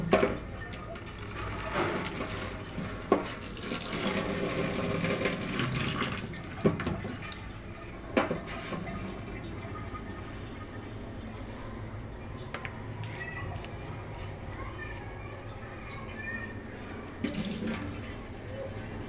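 Running tap water splashes as dirty food is washed in a home kitchen, a steady gush with intermittent clatters, and a cat meows faintly in the background.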